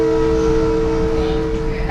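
A New York City subway train rolls along with a loud, steady tonal whine or horn-like note over rumbling wheels, continuous throughout the short stretch.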